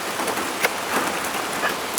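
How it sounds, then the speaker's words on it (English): Light rain patters steadily on surfaces at an outdoor campsite, a continuous soft hiss with scattered drops and no talking. "As you can see, and probably hear, it's raining a little bit"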